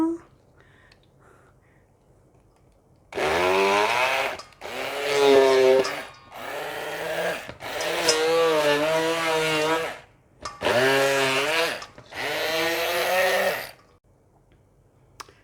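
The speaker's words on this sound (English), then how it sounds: "the initial attempt at using the straight Black & Decker wand didn't work" A Black & Decker stick blender grinds cauliflower in a series of loud, close bursts, its motor pitch sagging and rising under load, with short pauses between pulses.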